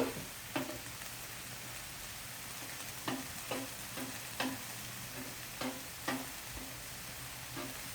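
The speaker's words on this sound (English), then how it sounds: "when you're frying the rice, what you're doing is actually just taking the moisture out of it" Chicken fried rice frying in a pan gives a steady close sizzle, broken every second or so by soft scraping stir strokes, with no voices.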